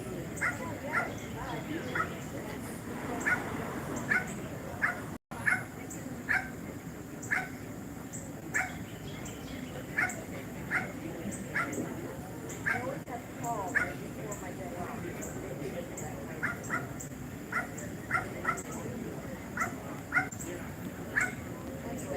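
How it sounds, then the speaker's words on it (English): A small dog shut in a nearby parked car yips and whimpers again and again at a steady pace, faint and a little muffled, while people chat close by. "Somebody's little doggy."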